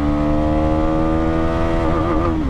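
Bajaj Pulsar NS400Z 400cc motorcycle accelerating hard in gear, with a loud, rising engine whine that climbs steadily and then wavers near the end as it shifts.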